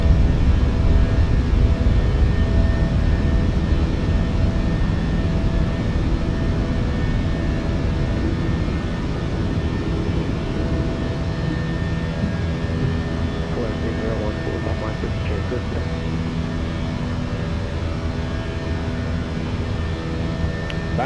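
Airbus A320 climbing out after takeoff in a flight simulator, a steady loud engine roar and broadband rumble throughout, with a voice talking over it.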